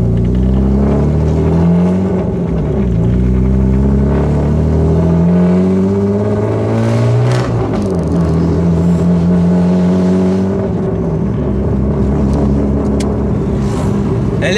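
BMW E36 on ethanol with a welded differential and a straight-through exhaust running from engine to tailpipe, revving loudly and steadily with rising and falling pitch sweeps, the raw exhaust note filling the whole stretch alone.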